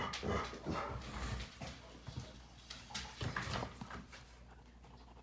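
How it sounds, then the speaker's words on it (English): A dog whimpers and makes soft woofing sounds nearby indoors, a restless run of vocalizing with no clear talk over it. "My well-behaved dog doesn't come when I call her."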